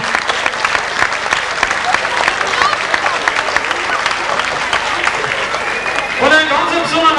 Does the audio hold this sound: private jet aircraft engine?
no